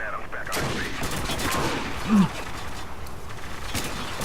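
Enemy gunfire in Spec Ops The Line, scattered moderate shots and battle noise in the background while someone talks over it.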